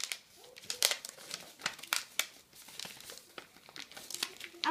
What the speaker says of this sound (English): Then you fold this part.